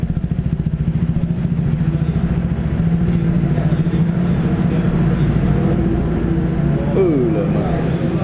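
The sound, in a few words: RC250 motorcycle engine running during tuning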